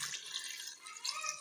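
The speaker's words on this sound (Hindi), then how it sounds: "अब इस 1 गिलास पानी डालेंगे।" Water from a glass poured into a cooking pot of meat with green chillies and cumin, a brief bright splashing trickle heard close up, with no talk.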